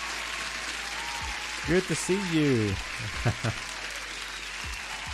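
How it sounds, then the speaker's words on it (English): A crowd-applause sound effect runs as a steady wash of clapping through a live trading session, with someone talking over it the whole time. "you definitely deserve an applause here"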